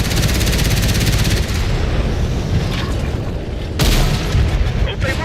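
Autocannon fire in World of Tanks: heavy booming blasts with a rumbling, rapid-fire texture, loud and close, one strong burst near the start and another partway through, with a voice talking over it.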